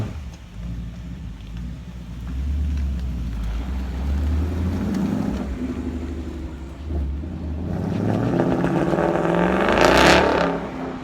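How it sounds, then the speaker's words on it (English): A UK-market Ford Mustang 5.0 V8 accelerates hard past a Golf GTI. A low, steady engine rumble swells into a loud, broad roar near the end, with no voices. "I just hit the loud pedal to outrun a Golf GTI in this thing"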